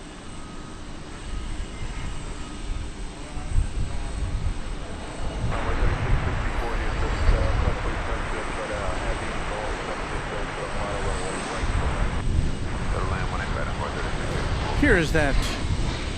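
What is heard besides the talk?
UPS cargo plane flight from Austin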